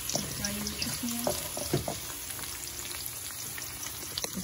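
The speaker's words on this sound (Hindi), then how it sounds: "2-3 मिनट्स के लिए इसको फ्राई करेंगे." Vegetables for veg jalfrezi fry in a pan with a soft continuous sizzle, broken by a few light stirring knocks, close and quiet.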